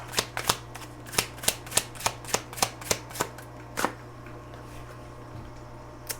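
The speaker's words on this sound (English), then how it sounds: "I'm going to go ahead and grab some cards from the Pining Rose Tarot." Pining Rose tarot cards are shuffled close by in a quick run of crisp, evenly spaced riffling snaps over a low steady hum, then the shuffling stops and a single soft tap follows.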